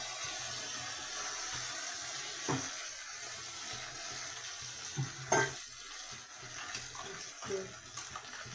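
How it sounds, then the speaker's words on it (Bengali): Kofta curry masala sizzles in a pan as it is sautéed and stirred, a soft steady frying hiss broken by occasional scrapes and clinks of the spoon against the pan. "এটা ভালো করে কষাতে হবে।"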